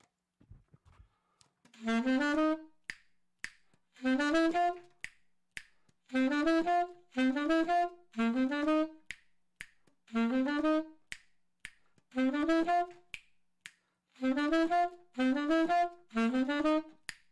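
Finger snaps keep time with a sung tune, each sung phrase ending in a pair of crisp close snaps, repeating through a Halloween music session.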